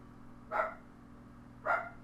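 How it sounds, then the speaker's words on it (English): Two short, fairly faint dog barks about a second apart, over a steady low background hum. "You get dogs barking."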